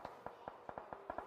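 Close-range spray of gunfire in PUBG Mobile, likely from a UMP, with about nine sharp shots in an uneven rapid burst, fairly faint, with no talk.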